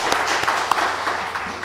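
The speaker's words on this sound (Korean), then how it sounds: "하나님께 영광의 박수로 올려드리겠습니다." A church congregation applauds during a Sunday worship service: a dense, steady wash of clapping from many hands, moderately loud and continuous throughout, with a faint voice mixed in.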